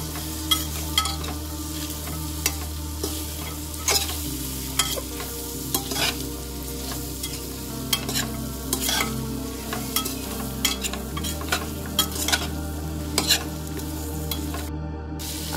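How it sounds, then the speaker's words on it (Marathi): Soybeans and mixed vegetables sizzle in a pan while being stirred for a pulao, a loud steady frying hiss broken by repeated scraping and clanking strokes of a spoon against the pan. "छान मिक्स करून घ्यायचं।"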